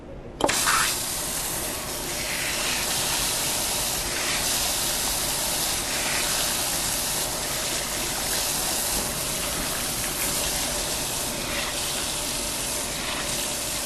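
Steady running water from a tap pours over a person's hair during a shampoo rinse, a continuous broadband splashing that starts abruptly and holds at an even, close level throughout with no talk.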